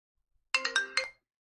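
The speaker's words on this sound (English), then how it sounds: "let's try to listen to, let's say this one, iPhone 14 Pro Max" An iPhone 14 Pro Max ringtone played from a Motorola Moto G04 phone speaker, a short bright melodic chime of several quick tones lasting about half a second, clear and alone against silence.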